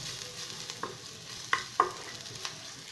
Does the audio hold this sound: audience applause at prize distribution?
no